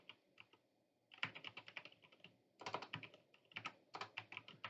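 Fingers type on a computer keyboard in quick bursts of close, crisp keystrokes, separated by short pauses in a quiet room with no one speaking.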